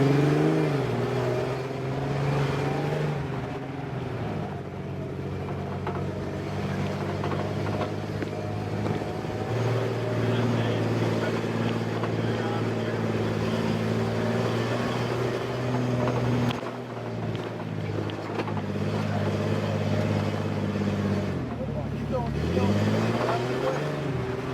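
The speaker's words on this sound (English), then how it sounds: "It's the big hill climb out of here. We'll see if that truck will do it." Truck engine laboring up a big steep hill on a rough off-road track, a sustained loud drone with rising and falling pitch as it revs and strains, dipping briefly before pulling again, with people talking over it.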